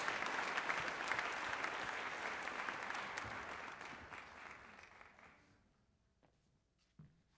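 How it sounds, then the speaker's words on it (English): An audience at an Armed Forces Day concert by an Air Force band gives broad, steady applause that gradually fades away to near silence, followed by a couple of faint isolated taps. "Give him a round of applause."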